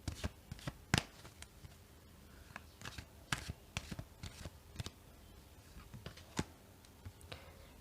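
Tarot cards are shuffled and drawn close up in a quiet room, giving a run of soft riffling slaps and sharp flicks that come at an irregular pace.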